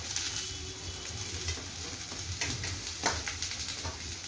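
Cabbage and beans hit a hot pan on high flame for Schezwan fried rice, giving a steady close sizzle and frying hiss with light stirring scrapes throughout, no talking.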